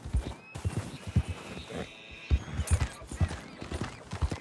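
In Red Dead Online, a horse's hooves clip-clop in a steady rhythm at close range, and a long whinny rises midway through, with no speech.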